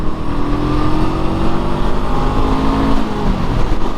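A Honda SCL500 scrambler motorcycle drops a gear and pulls hard, the engine note loud and close with a continuous rising drone throughout.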